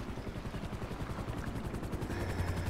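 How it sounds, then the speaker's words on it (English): Coast Guard rescue helicopter in GTA 5 hovers over the ocean, its rotor beating in a fast, even pulse with a low engine drone, fairly faint and steady throughout with no talking. "I'm gonna need the helicopter to come follow us again now."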